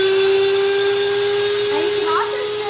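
An electric mixer running at its lowest speed setting while making cake pops, giving a steady, loud motor whine with a constant pitch and faint voices in the background.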